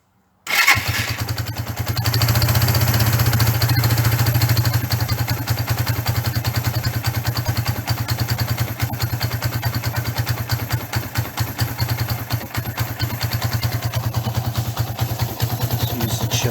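A Suzuki GN125 motorcycle starts up and settles into a steady, loud, close idle, its single-cylinder engine putting out an even, rapid mechanical pulse for the whole stretch.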